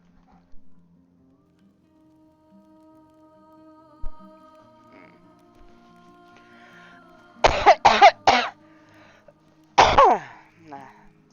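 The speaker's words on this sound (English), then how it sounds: "this coughing is killing me, man" A person coughs hard in a quick cluster of harsh bursts, then coughs once more after a short pause, over quiet humming tones and a few soft knocks.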